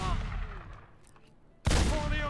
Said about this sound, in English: What is with all the gunfire now?